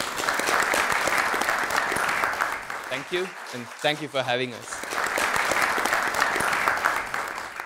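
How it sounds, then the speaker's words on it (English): An audience at an evening biomedical science talk applauds in a dense, sustained burst of clapping. Partway through, the clapping dips while a voice speaks briefly, then the applause swells back up at full strength until the end. "Can we give Madhu and Sharath a big round of applause for sharing the work tonight?"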